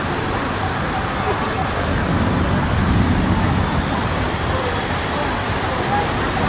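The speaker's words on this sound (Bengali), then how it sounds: "এত বেশি বৃষ্টি পড়ছে যে আমার কাপড় চোপড় যাচ্ছে" Heavy rain pours steadily over Dhaka in a loud, dense wash with a low rumble that may be thunder, continuous and close throughout.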